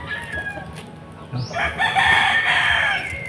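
A rooster crows loudly nearby, a long drawn-out call that rises after a quieter start with a few soft clucks.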